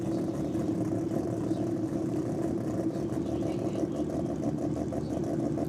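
A drag race car at a Grudge Kings race day, its engine a constant heavy, loud drone with a low throaty rumble that holds steady without clear revs or pauses.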